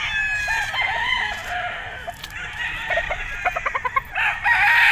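Sweater gamefowl roosters crow repeatedly at a game farm during a summer sale, loud, close calls overlapping with clucking and farmyard bustle.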